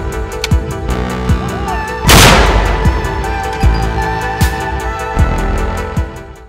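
British L119 howitzer firing in combat in Ukraine's Donbas region: one loud close boom with a sharp blast and rolling decay, plus repeated fainter distant thumps at a regular pace throughout.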